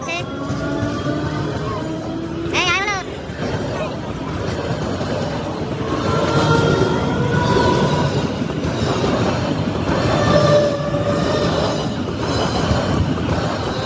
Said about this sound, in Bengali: ট্রেনটা আসুক।